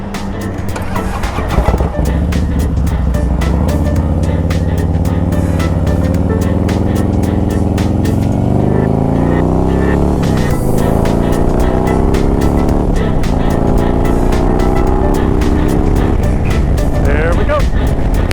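A motorcycle cruising on a freeway between Indiana and Pennsylvania, its engine droning loud and close with rising and falling pitch as it shifts, under heavy wind rush, with a voice talking over it.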